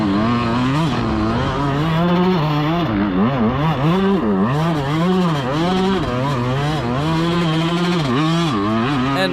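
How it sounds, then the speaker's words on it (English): A motocross bike at Budds Creek track during a race screams at high revs with a stuck throttle, its engine note rising and falling in continuous wavering surges, loud and close with no voices. "you're going to hear now the bike still is revving way high because the throttle's stuck"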